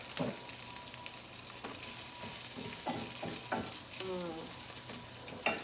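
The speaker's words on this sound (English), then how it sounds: "Bacon is sizzling." Bacon sizzles and crackles steadily in a hot pan, with occasional clinks and scraping over the constant hiss.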